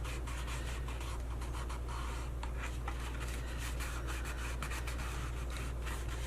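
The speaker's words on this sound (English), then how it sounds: "just gently rubbing on each tab" Soft, steady rubbing and scraping of fingers pressing on paper tabs while assembling a 3D Halloween pumpkin graveyard diorama, close and quiet, continuous with no talking.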